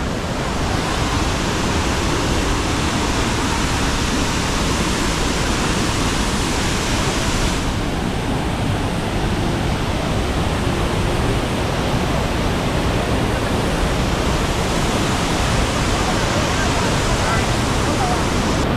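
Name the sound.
Datanla waterfall in Da Lat, Vietnam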